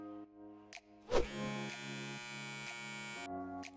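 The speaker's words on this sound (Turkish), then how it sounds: "Berbere uğrayıp bir tıraş makinesi alayım." An electric shaver hums with a steady, close buzz that runs for a few seconds, broken by a couple of brief clicks and a short bump as it is switched or handled.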